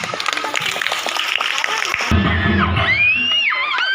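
A crowd claps in a quick burst of applause at a school felicitation during the Bonalu festival, then cheering and shouting voices take over, loud and close.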